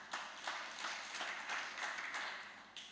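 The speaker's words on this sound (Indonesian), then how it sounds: "Kasih tepuk tangan bagi Tuhan." Congregation in a church service applauding, a steady wash of many hands clapping at moderate distance, fairly soft throughout with no talk over it.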